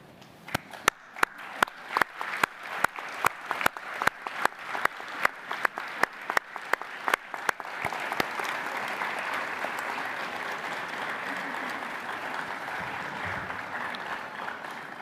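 Graduation ceremony audience for a science, engineering and environment school starts with a few sharp, separate claps that swell into a long, full round of sustained applause filling the hall.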